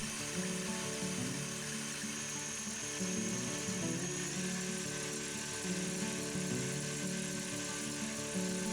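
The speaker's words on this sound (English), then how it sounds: "using a whisk attachment and a fairly high speed, and whisk until it turns white and starts to foam up" A stand mixer with a whisk attachment beating egg whites at fairly high speed for a fresh cream sponge cake, producing a continuous motor whir with a faintly wavering, rhythmic churn, even and moderately close, with no voices.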